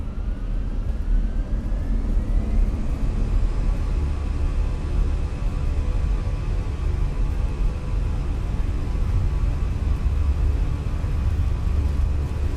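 An airliner taking off at Gatwick in Microsoft Flight Simulator 2024, heard as a steady, loud engine roar with a rising whine that holds throughout, with no voices.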